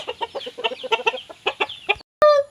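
Gamecock roosters being conditioned, named Itim and Abuhin, cluck in quick repeated bursts up close for about two seconds, then go quiet before one short, sharp, higher call.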